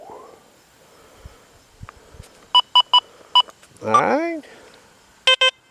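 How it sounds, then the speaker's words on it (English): Deus 2 metal detector giving a low, grunting iron tone over a nickel, preceded by several short, evenly spaced high beeps and followed by a quick pair of tones, with a brief word spoken. "You hear that iron tone coming over that nickel there, right?"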